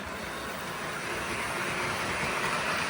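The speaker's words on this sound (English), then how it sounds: "let's get this NW2 switcher running and see what she'll do" A model NW2 switcher locomotive runs on a track layout pulling nine cars, giving a steady, faint whirring motor hum with rolling rumble that grows slightly louder as it approaches, with no talk.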